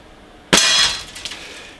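A single sharp, loud crack from a Gamo Hunter 1250 Grizzly Pro air rifle with an IGT gas piston, followed by a brief ringing decay with a faint rattle.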